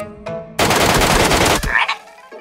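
Sustained rapid gunfire bursts from a shooting video game, loud and dense for about a second, ending abruptly, with a faint tone before and after.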